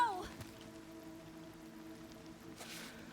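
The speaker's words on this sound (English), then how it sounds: "Of course, it'd start fucking raining." Rain falls in the survival-climbing video game Cairn, a steady soft hiss of drops that continues throughout, mixed with low sustained music tones.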